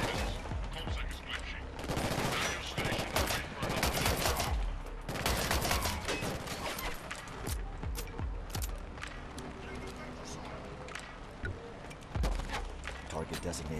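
Video game gunfire in Killzone: Shadow Fall, dense bursts of rapid shots and fusillades crackling through the whole stretch, with sporadic single cracks, while a voice talks over the combat.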